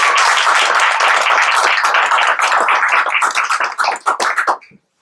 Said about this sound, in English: How about another round of applause for students?